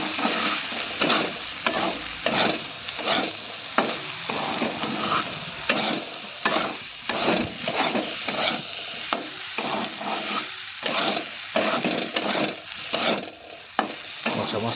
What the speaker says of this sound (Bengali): একটু ভালো করে নেড়ে দেবো।